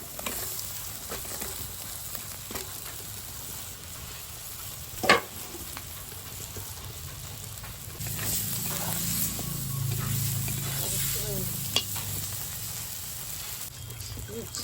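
Potatoes sizzle and fry in a pan of vegetable curry with turmeric, the steady hiss broken by a few sharp spoon knocks and scrapes of stirring, close and fairly loud, no talk.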